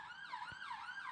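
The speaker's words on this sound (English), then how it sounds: "That's a loud siren. It's a very loud siren." An emergency vehicle siren wails outside with a rising and falling electronic tone, heard faintly and steadily through the short stretch with no other sound.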